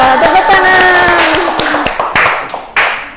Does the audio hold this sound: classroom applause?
yes